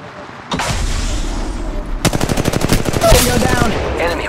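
Video game gunfire in rapid automatic bursts, loud and close, with a sharp opening shot followed by a sustained stream of rattling machine-gun fire.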